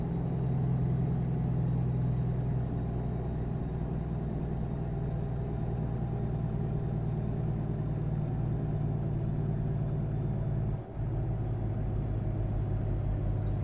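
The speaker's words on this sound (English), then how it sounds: "Truck sounds like a beast. It's got the same motor that I put in all my trucks." A heavy diesel truck engine in the video game American Truck Simulator rumbles at a steady, low idle throughout, a constant deep drone with no voices.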